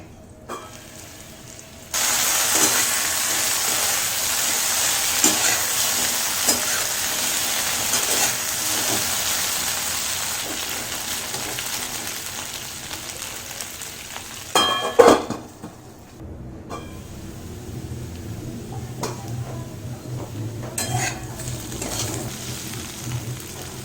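Taro pieces frying in a pan for an arum curry, a continuous hissing sizzle with occasional clinks and scrapes of a utensil against the pan, a brief louder clatter midway, then a quieter sizzle.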